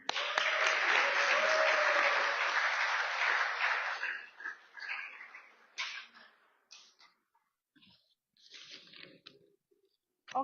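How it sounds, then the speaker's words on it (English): Guests at a trainee certification ceremony in Portsmouth applaud, a full burst of clapping lasting about four seconds before fading into scattered claps and small rustles in a quiet hall. "Let's applaud them again"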